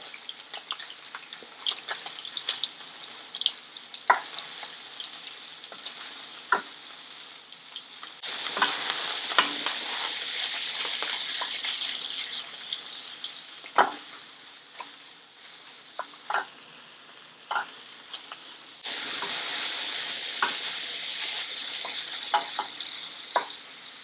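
Tofu and minced meat fry in a pan for a Chinese tofu dish and are gently stirred: a continuous sizzle that swells louder in two long stretches, broken by frequent light scrapes and taps of the utensil against the pan, with no talking.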